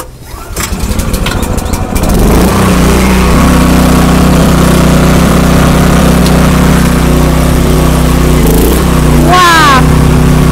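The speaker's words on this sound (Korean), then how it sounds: "발전기를 먼저 시동을 걸어가지고 워밍업을 돌려주시고" A small engine-driven generator for a power sprayer cranks and catches, then settles into a loud, steady idle as it warms up; near and continuous, with a brief whine late on.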